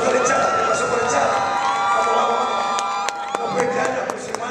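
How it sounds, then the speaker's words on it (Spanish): A stadium crowd at a baseball final cheers and claps, broad roaring noise with whoops and shouts, while an announcer talks over it. "Fuerte aplauso por la echada."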